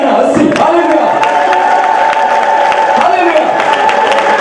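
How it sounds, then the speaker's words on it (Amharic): A church congregation ululating and clapping, a dense, loud crowd roar of sustained high trilling voices and scattered hand claps filling the whole stretch. "እልልታና ጭብጨባ ለመባረክ"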